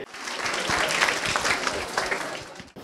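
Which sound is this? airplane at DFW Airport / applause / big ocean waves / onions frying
applause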